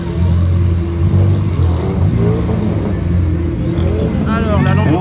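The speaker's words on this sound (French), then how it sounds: "Alors, la Lamborghini Urus" A Lamborghini Urus engine rumbles low and close in Charleroi, with a rising rev toward the end, while people talk over it.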